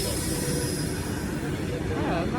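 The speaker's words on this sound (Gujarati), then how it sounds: "ફાઇનલી ટ્રેન આવી ગઈ છે." A train arrives with a loud, steady rumble of wheels and carriages rolling close by, a broad continuous roar without pause.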